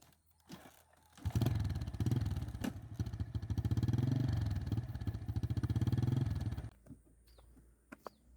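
A motorcycle carrying harvested oil palm bunches runs nearby with a steady rumbling engine for several seconds, then cuts off, leaving faint outdoor background.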